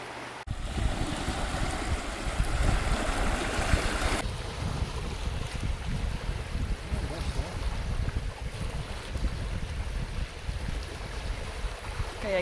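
Wind-blown waves wash against a sandy, rocky Lake Superior beach near Pictured Rocks, Michigan, with a steady broadband surge and heavy microphone wind buffeting throughout.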